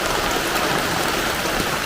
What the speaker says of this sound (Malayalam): മഴ ഒരുമാതിരി പെയ്യാൻ തുടങ്ങിയിട്ടുണ്ട്